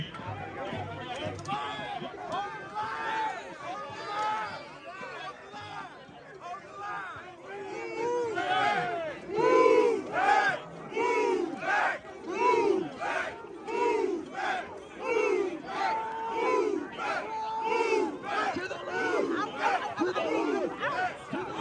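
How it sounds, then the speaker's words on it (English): Agitated crowd at a Chicago police line during protests, with a dense mass of overlapping shouts and yelling swelling and surging in loud rhythmic bursts as a fight breaks out. "a huge fight breaking out after the Antifa crowd tried to go through the"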